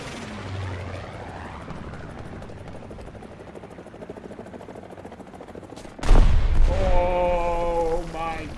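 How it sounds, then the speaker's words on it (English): An AH-1G Cobra gunship in War Thunder keeps up a steady helicopter rotor drone with rapid gunfire, then a loud burst of explosions and a wavering howling tone takes over. "Look at all those explosions."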